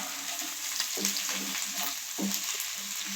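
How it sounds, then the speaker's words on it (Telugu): Chili powder fries in hot oil in a pan for chicken fry, a constant close sizzle with soft clinks and scrapes as it is stirred, no voices. "ఇప్పుడు ఈ కారం పచ్చివాసన పోయేంత వరకు వేయించుకుందాము"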